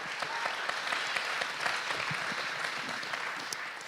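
A church congregation applauds guests being welcomed, a steady wash of many hands clapping throughout, moderately distant and without any voices over it.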